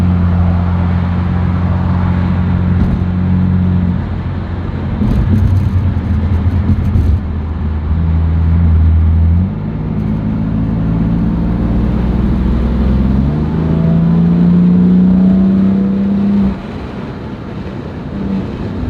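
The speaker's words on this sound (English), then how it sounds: "Stock exhaust with just downpipes, and it sounds amazing." A 600HP BMW F80 M3 on stock exhaust with downpipes, driven hard, its engine droning low and then climbing in pitch through the revs, heard from inside the cabin under rushing wind noise.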